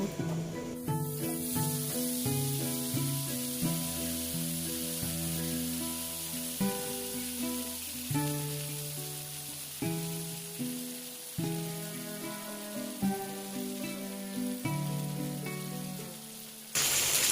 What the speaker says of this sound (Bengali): এবার আমি চিকেনটাকে তুলে তেলের মধ্যে দিয়ে দিব।